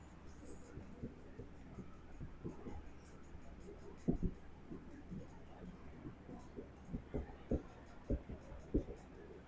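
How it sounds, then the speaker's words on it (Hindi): A teacher writing on a classroom board during a DNA lesson, giving a steady run of soft scratchy strokes and taps with a few sharper knocks, fairly close, with no talking. "मैं बोर्ड पे लिख देती हूँ।"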